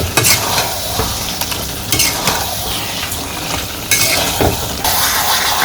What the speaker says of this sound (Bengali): মাছগুলো দিয়ে আমি একটু ভালো করে কষাই নেব।